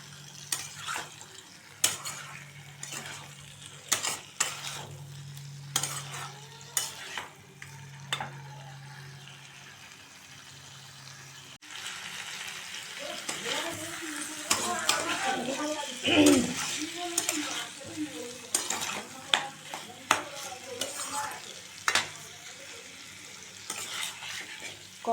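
Potatoes are stirred and fried with masala in a pan. A spoon scrapes and knocks against the pan in repeated bursts over a soft sizzle, with some faint background murmur in the later part.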